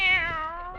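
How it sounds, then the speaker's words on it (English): A kitten gives a single short, clear meow, rising then falling slightly, close and fairly loud with no talking over it. "Oh, there you are, you cute little kitten."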